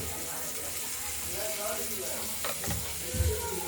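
Pieces of rohu fish fry in oil in a kadai, giving a steady close sizzle with a few sharper spatters and a bump near the end, while someone talks faintly in the background.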